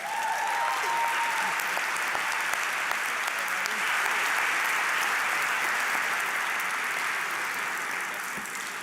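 Sustained, dense applause from a large audience at a graduate studies commencement ceremony, holding steady and loud before easing slightly at the end.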